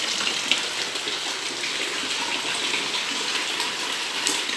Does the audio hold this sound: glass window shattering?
no